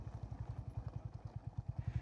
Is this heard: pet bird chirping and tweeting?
no